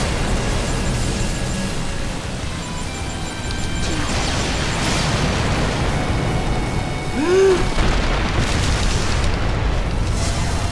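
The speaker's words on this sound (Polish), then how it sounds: "Więcej wybuchów niż wszystkiego innego." Continuous rumbling blasts and crashing booms from the video game SkyDrift roll on throughout, dense and loud, with a whistling tone rising near the end.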